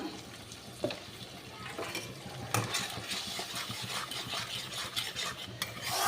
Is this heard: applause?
no